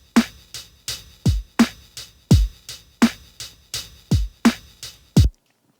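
A lo-fi hip-hop MIDI drum beat with late swung eighth notes plays alone: punchy kicks, snares and hats in a steady, lazily swung loop for a few bars, then a sudden stop.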